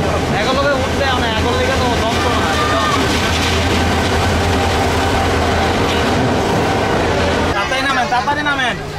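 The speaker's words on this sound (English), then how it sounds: "now we can try inside a train" A Bangladeshi passenger train rolls along with a steady clattering rumble and rhythmic wheel clicks on the rails, and voices talk faintly over the noise.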